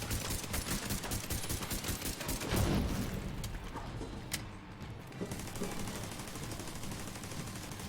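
Rapid sustained gunfire in a shooter video game as a tank is shot, dense bursts of automatic fire and explosions filling the whole stretch at steady loudness, with no talk.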